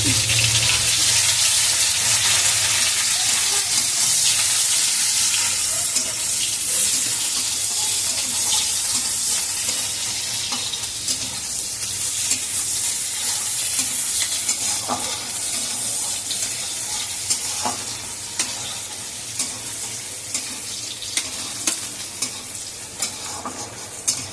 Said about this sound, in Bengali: তেলের পরে একটু পেঁয়াজ দিয়ে দিলাম